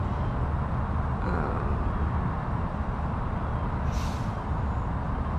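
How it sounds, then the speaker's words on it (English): A garbage truck rumbles by loudly and steadily, with a brief hiss of air brakes partway through. "Hold on, the garbage truck is going by."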